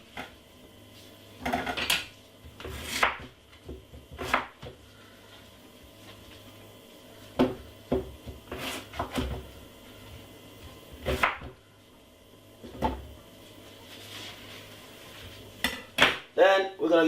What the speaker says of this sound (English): what I'm gonna do is just simple cut it up very small